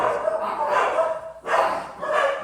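Several dogs barking in bursts, fairly close, with brief pauses between volleys.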